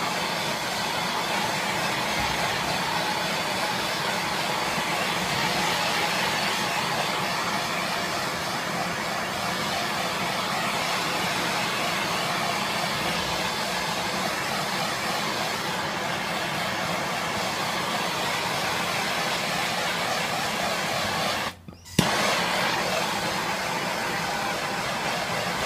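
Propane gas torch heating a heat-shrink splice on a solar water pump cable, a steady continuous roaring hiss held close and loud, broken only by a brief dropout near the end.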